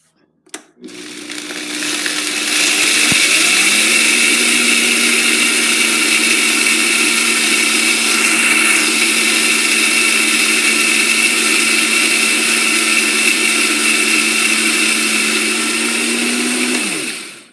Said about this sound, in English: So just a quick maybe 30 seconds on in the Vitamix.